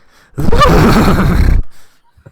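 A voice imitates a horse neigh, a loud, close, wavering whinny lasting about a second, starting sharply and cutting off into silence.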